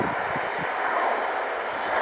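An Embraer jet departing Manchester Airport, a steady broad roar of engine noise holding at a constant level throughout, with no voices.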